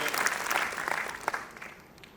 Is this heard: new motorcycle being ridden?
no